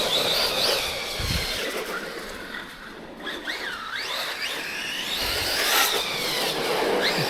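A Redcat Valkyrie 4S RC monster truck's electric motor whines as it drives, the pitch rising and falling with throttle through turns, fairly loud and continuous against outdoor background noise.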